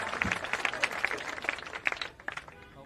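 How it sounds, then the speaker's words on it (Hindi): A crowd at a Jan Suraaj padyatra rally claps in scattered, uneven bursts, fairly close, with distinct individual claps rising above the mass before the applause thins out. "तालियां।"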